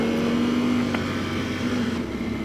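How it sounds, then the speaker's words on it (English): A Kawasaki Ninja H2 motorcycle rated at 316 horsepower rides past with a steady, fairly loud engine drone and a sustained whining tone. A brief sharp click falls near the middle, and no voices are present. "And now he's on my 316 horsepower H2."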